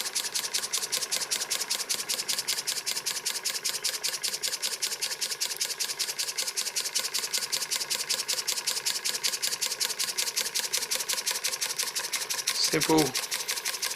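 Model steam engine with a see-through cylinder chuffing in a fast, even mechanical rhythm, close and steady throughout, with a brief spoken word near the end.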